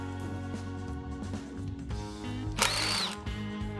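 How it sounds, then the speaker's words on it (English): Power tool spinning bolts loose on a Porsche 996 M96 engine with a bore-scored cylinder during teardown, short mechanical whirring bursts close up, one louder burst near the end. "So we crack those 3 bolts loose, pull the flange free"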